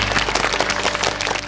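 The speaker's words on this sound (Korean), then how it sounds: "박수 부탁드릴게요" Studio audience applause at a Korean high school quiz show qualifying round, dense steady clapping filling the whole moment, fairly loud and close.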